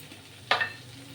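A spoonful of cumin powder hits hot oil and bursts into one short, sharp sizzle that quickly fades back to a quiet low simmer, with no talking.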